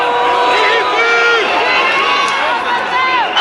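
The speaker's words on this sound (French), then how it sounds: "Huées, sifflements, cris de haine" Outside the Brussels court, a protest crowd of several hundred boos, whistles and shouts in a dense, loud din, with sharp whistles cutting through, under a voice speaking over it.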